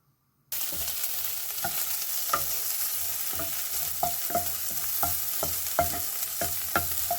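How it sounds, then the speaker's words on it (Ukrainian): Diced bacon frying in a pan over medium-high heat with no added oil, a steady close sizzle punctuated by regular scraping stirs. "Пательню ставлю на вогонь вище середнього і буду підсмажувати."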